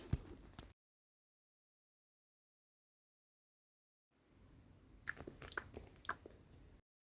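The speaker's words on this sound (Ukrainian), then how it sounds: "хватить чавкати голосно" Loud chomping and crunchy chewing from a boy eating greedily, close and in bursts of bites after a long silent gap, with no talk over it.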